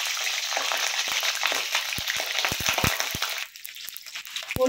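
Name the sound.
cauliflower frying in oil in a wok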